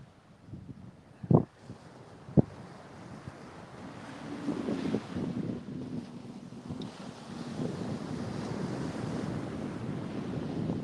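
Surf rolls in steadily at a Panama City beach, a broad, wind-buffeted wash of waves that builds over time, with a couple of sharp knocks near the start.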